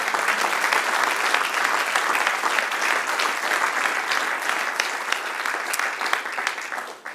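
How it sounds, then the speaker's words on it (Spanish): A church congregation claps in praise during a sermon, producing a dense, loud, sustained wash of applause that continues evenly for several seconds before tapering off at the end. "dale otro aplauso a nuestro Dios"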